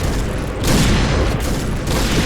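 Loud, booming shots from a Point Blank first-person shooter match hit in quick succession, close and heavy, with no talking over them.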